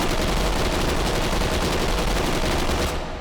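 Continuous rapid automatic fire from a PPSh-41 submachine gun in the VR game H3VR, a dense unbroken burst of shots lasting about three seconds before cutting off abruptly.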